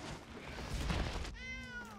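A cat meows in the Magic Arena digital card game as a Sacred Cat card is played, one clear drawn-out meow rising then falling after a soft muffled thud, close and with no talk.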